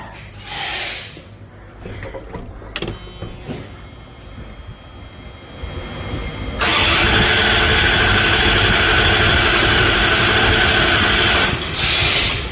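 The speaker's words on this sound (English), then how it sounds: "now I should be able to crank this and get a injector waveform there" An engine cranks and turns over during a fuel injector test, a steady mechanical churn that grows louder and denser partway through, then holds at a constant level, close and loud with no talking.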